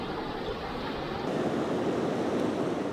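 A flash flood courses down a river spanning almost its whole width in the Namibian desert, a steady, dense roaring rush of water with wind buffeting the microphone, loud and continuous throughout.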